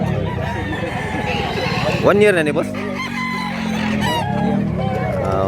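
A one-year-old rooster at a market in Mantalungon, Cebu crows loudly nearby in one rising, wavering call over busy background noise, with someone talking in the middle.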